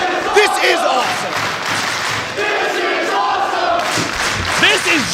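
A loud wrestling crowd roaring and chanting throughout, dense and sustained, with shouted voices and whoops rising over the din and a surge of yelling near the end.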